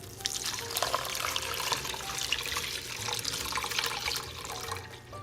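Water splashes and gushes steadily into a pot of rice and corn, a continuous bright pour that runs unbroken at moderate volume.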